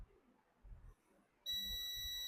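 Steady electronic beep from a tester checking an EMI filter coil on a circuit board, a loud continuous tone that starts abruptly and holds without a break.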